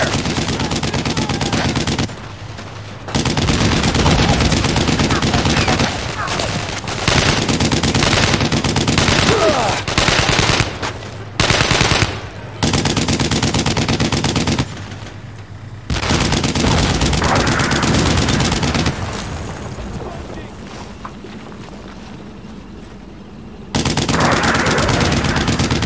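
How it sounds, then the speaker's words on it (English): Sustained machine gun bursts and rifle fire in the World War II shooter Brothers in Arms, a loud, dense battle din that rolls on with brief gaps and shouted voices mixed in. "Suppressing fire!"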